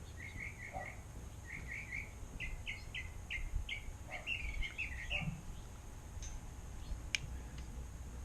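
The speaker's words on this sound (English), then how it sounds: "this bird is loud and he doesn't shut up" A loud bird repeats quick chirping calls in rapid bursts, close and insistent, over a low outdoor rumble. No one speaks.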